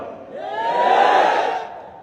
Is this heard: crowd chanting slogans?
yes